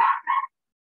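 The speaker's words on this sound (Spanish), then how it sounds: "Disculpen la bulla de los perritos." Small dogs bark, two quick yapping barks close by, the second shorter, then silence.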